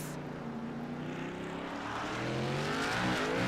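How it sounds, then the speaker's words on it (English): A race car engine revs loudly and continuously in the iRacing game at Circuit of the Americas, pitch climbing and wavering as the tires spin on corner exit, close and dominant throughout. "You can hear Black, the revs climbing as he spins the tires on corner exit."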